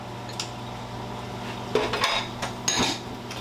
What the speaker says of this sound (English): as I'm piling dishes into the sink behind me